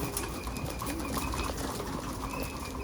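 Pigeons coo in a loft, with soft repeated cooing and some wing flapping against a steady, close background hum.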